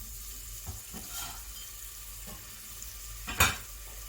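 Onion sizzling in olive oil in a pot, a steady hiss at moderate level with a few soft stirring scrapes and one sharp clink near the end, with no voices.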